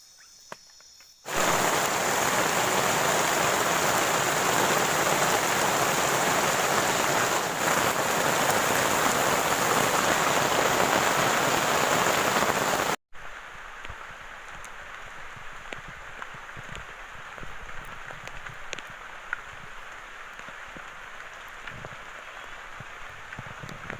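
Heavy rain pours steadily on a jungle camp at night, loud and dense for about twelve seconds, then drops to a lighter, continuous patter with scattered drips and faint insect chirring.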